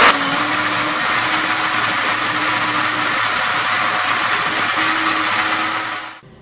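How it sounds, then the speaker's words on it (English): An electric kitchen blender whirs steadily as it purées sliced pepper and onions into a paste for soup, running loud and continuous for several seconds before cutting off abruptly near the end. "I want to blend the pepper and the onions that I've already sliced to form a paste to add into the soup"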